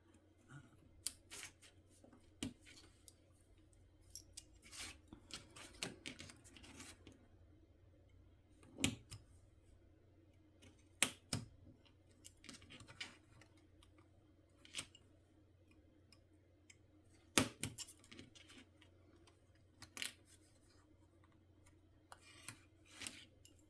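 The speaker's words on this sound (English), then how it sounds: "I'm gonna cut out. This is a new blade." A new craft blade cuts out a small dark brown piece for a miniature tailor shop house, giving sparse, sharp close snips and clicks spaced across a quiet room with no talking.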